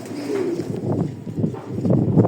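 Racer pigeons at a breeding farm give soft, low coos that repeat close by against light background noise.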